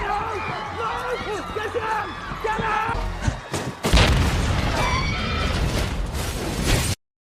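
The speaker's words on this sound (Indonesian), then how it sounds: "melemparkannya menjauh dari kerumunan tepat sebelum bom itu meledak" A deep, booming explosion bursts out suddenly after a stretch of dramatic film audio, followed by a roaring rumble that cuts off abruptly.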